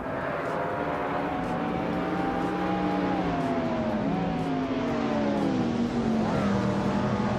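A 1997 Nissan R390 race car engine drones steadily in a racing video game, its pitch rising and dipping through gear changes, loud and continuous with other car engines layered beneath.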